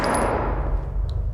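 A single burst of video game gunfire, loud and close, with a sharp attack that decays quickly into a fading rumble, no voices.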